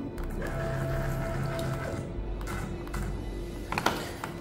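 A CNC router spindle jogs slowly down toward the workpiece surface to set its zero. A steady mechanical whine and hum runs throughout, and a faint tap sounds near the end.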